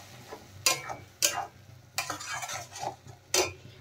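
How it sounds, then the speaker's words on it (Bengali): Ginger, garlic and tomato paste masala frying in oil for paneer Lahori, low sizzling broken by four or five sharp spatula scrapes against the pan, close up with no talk. "আমি এর মধ্যে আদা, রসুন আর টমেটো পেস্ট করে রেখেছি, সেটা দিয়ে দিলাম। দিয়ে ভালো করে কষিয়ে নেব"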